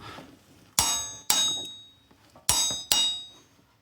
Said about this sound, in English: I thought I'd show you the noise it makes when the torque meter clicks